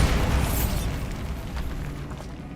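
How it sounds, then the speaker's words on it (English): A Bombarda explosion spell in a wizard video game booms out loud at the start, then trails into a rumbling, crackling blast tail that fades over a couple of seconds. "Bombarda."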